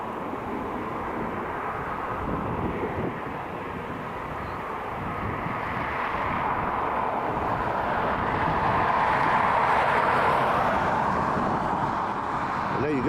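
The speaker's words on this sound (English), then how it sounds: "our retro-liveried A320 now on departure" A retro-liveried Airbus A320 taking off from Dublin Airport, its broad jet roar swelling gradually and heard from a distance through wind buffeting on the microphone.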